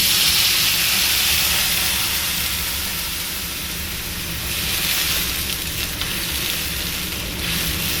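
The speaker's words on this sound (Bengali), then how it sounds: "এবারে আমি এতে দেব অল্প জল।" A little water poured into a hot pan of vegetable curry sends up a loud, continuous sizzling hiss that rolls on steadily, swelling slightly in places.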